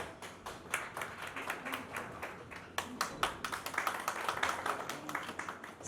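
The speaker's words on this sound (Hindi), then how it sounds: "एक बार जोरदार तालियां होनी चाहिए यहाँ पे भी" An audience claps at a public event in India, a loose scattered patter of hands that swells and thins unevenly over several seconds, heard from a little distance.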